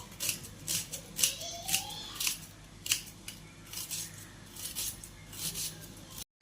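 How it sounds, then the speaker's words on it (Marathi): Peeled, washed okra being finely chopped with a knife for a bhaji: a steady run of short, crisp cutting clicks and taps, close and fairly quiet, with no talking. "आता मी बारीक करते, त्याला बारीक कापते त्याला।"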